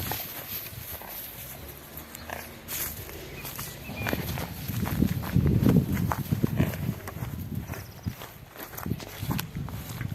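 A mare walks with slow, uneven hoof thuds on soft ground nearby in a grazing enclosure, amid outdoor rustling and faint background noise.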